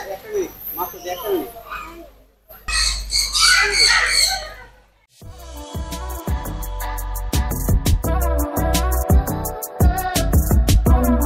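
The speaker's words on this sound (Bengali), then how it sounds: "এখানে যত ধরনের পাখি দেখতে পাচ্ছেন সবগুলাই হচ্ছে ম্যাকাও পাখি।" Harsh calls from macaws in the Macaw Land aviary of a safari park ring out loudly in the first few seconds, then give way to a steady rhythmic backing with beats.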